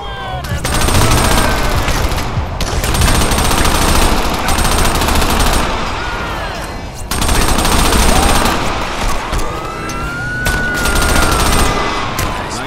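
Rapid automatic gunfire bursts from the Crackdown video game, loud and nearly continuous across the clip, with brief pauses, ricochet-like whines and a faint siren in the mix.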